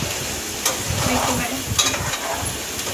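Masala with water sizzling and being stirred in a kadhai while cooking misal, a steady close crackle with soft scraping, no talk.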